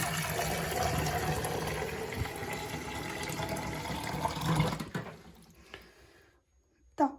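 Water poured from a tap into a washed mug in a home kitchen while making millet porridge with milk: a steady, fairly close splashing stream for about five seconds, then it stops and a few light clatters follow.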